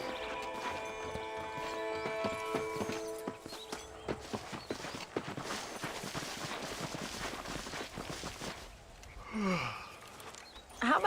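Horse hooves clip-clop in a steady rhythm as a rider travels in the video game Red Dead Redemption, with a brief whinny near the end and faint background music early on.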